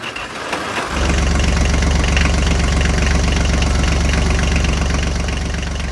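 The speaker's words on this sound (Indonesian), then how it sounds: "Traktor hijau melaju di jalan yang mengarah ke kota, mengangkut hasil panen yang menanti." A green farm tractor engine turns over and settles into a loud, steady, close rumbling idle with an even mechanical chug that holds for about five seconds.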